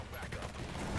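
Dense, continuous gunfire in the real-time strategy game Tempest Rising, a steady roar of overlapping shots and blasts filling the whole second, with a voice faintly mixed in underneath.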